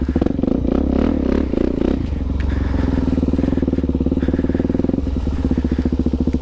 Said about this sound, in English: drop that clutch and rev it a little bit, and it'll take you where you need to go.